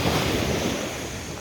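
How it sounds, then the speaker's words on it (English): Ocean waves break close to the shore of a remote Queensland island, a brief, steady washing surge mixed with wind buffeting the microphone, with no voices over it. "the water's very close and you can probably hear it in the background"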